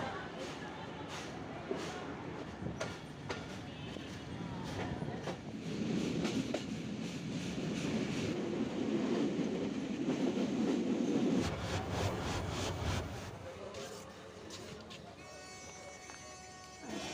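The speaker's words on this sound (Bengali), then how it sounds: "এই যে আমাদের train Tungipara express Kushtia court station থেকে ছেড়ে যাচ্ছে" The Tungipara Express pulls out of Kushtia Court station with rhythmic wheel clatter, a low rumble building as it gathers speed, and faint squeals near the end, while someone talks over it.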